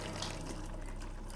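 Very hot water from a log boiler system gushes steadily from a tap, a continuous close hiss of running water with no voices over it.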